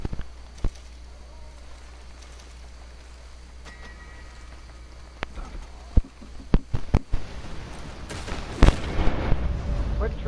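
Gunfire in the Red Dead Redemption 2 video game: sparse sharp single shots crack over a quiet rumbling background, growing denser and louder toward the end.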